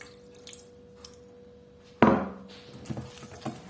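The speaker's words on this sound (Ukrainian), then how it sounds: "Цей процес називається вибивання для того, щоб маса була пухкою, котлети не тріскалися." Minced meat mixture for cutlets is slapped down hard once in a bowl, a sharp loud thud followed by softer wet squishing and a few lighter knocks.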